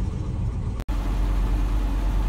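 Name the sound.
Land Rover 90 V8 engine idling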